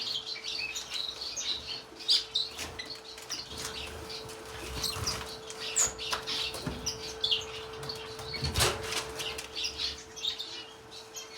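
Bourke's parakeets give frequent soft chirps and tweets with occasional wing flutters, close and fairly steady throughout, over a constant low electrical hum.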